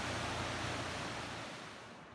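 The Bode river rushes wildly through the rocky Bodekessel gorge as a steady, broad roar of turbulent water that fades slightly toward the end, with no voices.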